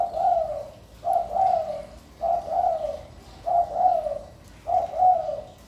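Spotted doves (tekukur) cooing in five evenly spaced phrases, each a soft, mellow multi-note coo about a second long, close and clear against a quiet background with no talk.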